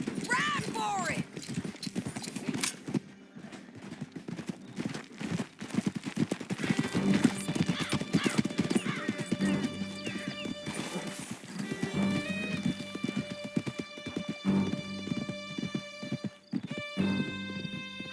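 Horse hooves gallop in a rapid, continuous clip-clop through a Red Dead Redemption 2 chase, loud and steady, with whinnies, scattered gunfire and spoken dialogue over the top.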